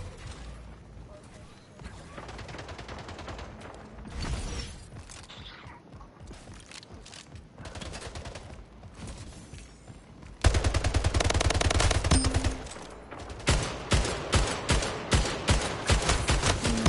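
Gunfire from the Zapotron shooting game, with rapid bursts of loud electronic shots. The shots grow denser and louder partway through, ending in repeated evenly spaced volleys. People talk at times.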